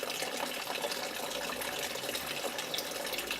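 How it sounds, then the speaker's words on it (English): Water pours from a tap into a bucket in a lecture demonstration, a steady, loud gushing splash that continues unbroken without speech. "as the water increases, it starts to emerge, and it's going into a second bucket below"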